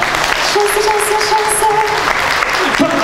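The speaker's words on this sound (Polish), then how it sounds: "Brawa!" Concert audience applauds a long-running Polish performing group at an anniversary show, steady clapping filling the hall while a voice speaks over it and music plays faintly underneath.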